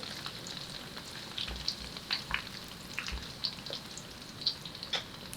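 Cut potatoes fry as french fries in hot oil, a steady soft sizzle with scattered crackles and pops, fairly close, with no talking.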